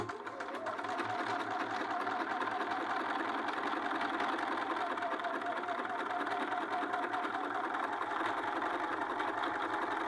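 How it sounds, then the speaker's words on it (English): A sewing machine runs steadily at an even, rapid stitching pace while sewing a sleeve seam 3/8 inch from the cut edge, close and continuous for several seconds with no talking. "I'm just going to stitch 3/8 of an inch from the cut edge"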